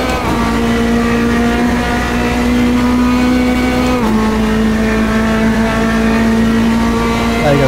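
Metalmoro P2 prototype race car in Automobilista 2 sim racing, a loud steady engine drone with strong harmonic tones holding high revs, briefly shifting near the middle, continuous and close throughout.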